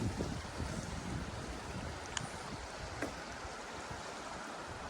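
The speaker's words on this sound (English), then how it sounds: "Listen to the sound of that water." A countryside stream in the British countryside flows with a constant broad rush and wash, steady and moderately close, mixed with some wind buffeting and no voices.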